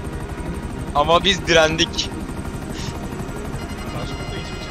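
Helicopter in the GTA 5 Online video game, a steady buzzing rotor drone running underneath, while someone talks briefly over it in the middle.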